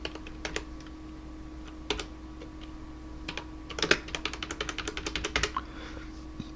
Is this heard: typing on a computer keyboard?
yes